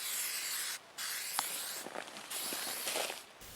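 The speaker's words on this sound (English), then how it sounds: "bright pink spray paint, and we're just going to mark a ring around the tree" Bright pink spray paint hisses from a can while a ring is marked around a Douglas fir tree outdoors, in several sustained close bursts with brief pauses and light rustling between them.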